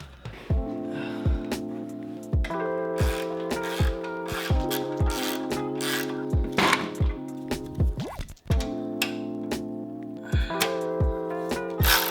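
Ratchet wrench loosening a bolt on a wrecked Kawasaki Ninja ZX-10R during a rebuild, steady close clicking in bursts with brief pauses, alongside background music with no talking.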